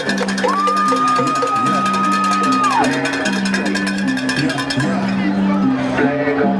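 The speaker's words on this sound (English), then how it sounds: "The crowd sounded good tonight." A high school football crowd cheers and whoops at a night game, sustained, lively noise from the stands with a long whistle-like tone near the start and a commentator talking over it.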